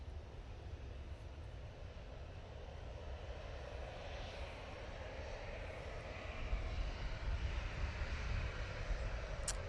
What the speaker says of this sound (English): we do have an Embraer Legacy coming over